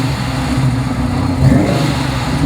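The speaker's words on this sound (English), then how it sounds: "with the blower whine, most people are going to know there's something a little different under the hood" A supercharged 1993 Ford Mustang GT Pro Touring with a 331 cubic inch Ford Racing V8 runs with a loud, steady engine drone. It swells slightly in the second half, with no talking over it.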